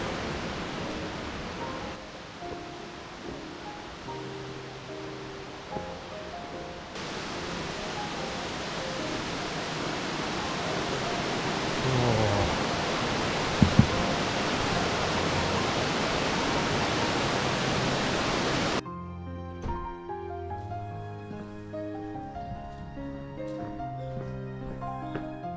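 Nachi waterfall on the Kumano Kodo pours in a steady, dense roar that fills the scene without a break, then falls away toward the end as the roar thins out.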